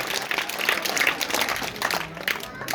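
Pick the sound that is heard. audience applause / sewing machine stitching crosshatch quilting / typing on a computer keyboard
audience applause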